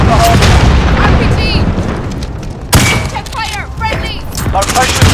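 Rocket launches and explosions from an RPG in Call of Duty: Modern Warfare multiplayer, a loud blast at the start and another sharp boom midway, with dense gunfire and battle noise throughout and game voice callouts over the top.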